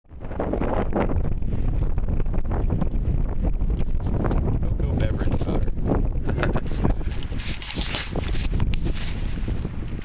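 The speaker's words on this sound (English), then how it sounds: "Pretty windy out here" Strong wind blowing outdoors in Kansas near the Colorado state line, roaring and buffeting the microphone steadily and loudly across the whole stretch with no break.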